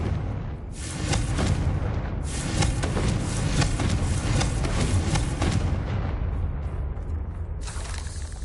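A Confringo explosive spell in Hogwarts Legacy erupts in a series of loud, booming blasts, rumbling bursts overlapping for several seconds before the roar thins out.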